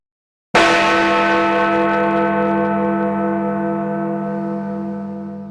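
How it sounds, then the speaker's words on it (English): A single church bell strikes once, loud and close, then rings on with a rich humming tone that slowly fades away over several seconds. "the extinction of the bell's toll"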